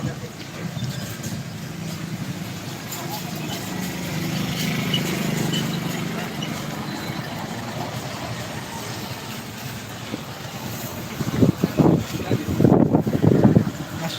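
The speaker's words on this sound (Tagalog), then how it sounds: "Masyadong mahangin na naman." Strong wind buffets the microphone in a steady, roaring rumble outdoors, with heavier gusts thumping in near the end.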